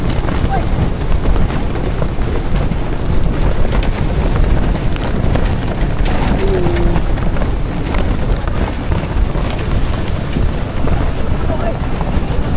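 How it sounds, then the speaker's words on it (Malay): Strong wind gusts outdoors in Perlis, Malaysia, buffeting the microphone with a loud, continuous rumbling roar, with faint rustles and knocks mixed in. "Oh kuat gila angin"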